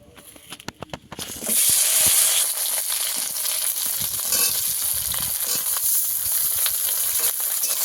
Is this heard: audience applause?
no